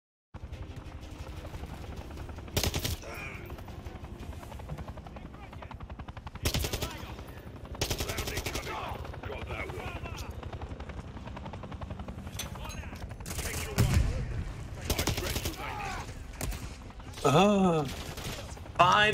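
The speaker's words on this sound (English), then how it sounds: "Oh, you couldn't have shot him a little sooner, guys." Gunfire in Call of Duty: Modern Warfare III, with scattered automatic bursts and single shots of varying loudness beneath a steady helicopter drone, while voices talk intermittently over the action.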